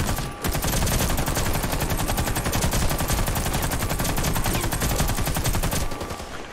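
Continuous rapid gunfire from the video game Warface, a dense, loud, unbroken burst of automatic shots lasting several seconds with no voices over it.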